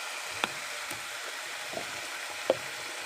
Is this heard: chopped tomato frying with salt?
yes